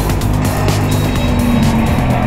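Loud, constant engine roar from a Ford Mustang RTR Spec 2 drift car on a slalom course, with tire squeal layered over the sustained revving throughout.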